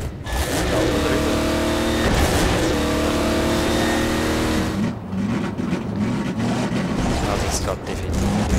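A car engine in Half-Life 2 Episode Two holds a steady roar at full throttle, loud and continuous throughout, with pitch shifting as it races along and a voice speaking over it.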